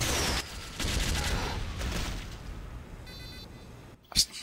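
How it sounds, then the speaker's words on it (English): A sentry turret in Team Fortress 2 gameplay fires a dense burst of gunfire over the first seconds, then the action fades to quieter game noise before a sharp loud bang near the end. "Honky Tonk Man? I got heals you, but his turret got me."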